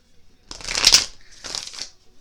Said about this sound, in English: Last shuffle right here.